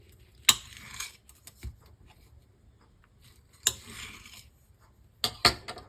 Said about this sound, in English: Let's cut it open and see what it looks like first.